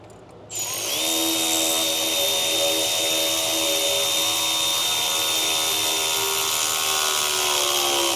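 A 10 mm power driver tightens an intake clamp on a 2020-or-later Ford 6.7 Powerstroke diesel while fitting a PPE intake kit. A loud, close, steady motor whine runs unbroken for about seven seconds, with no talking.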